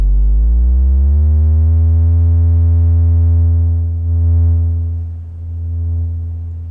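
A Make Noise 0-Coast synthesizer holds a steady, loud harmonic tone that rises slightly in pitch at the start, then sustains with small swells in level, alone without talk.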